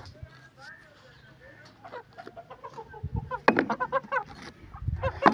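Silkie hens cluck and murmur close by in a pen, the calls growing busier and louder toward the end, with someone talking over them.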